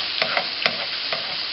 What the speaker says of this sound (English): Basting is one of the most important jobs when you're cooking red meat.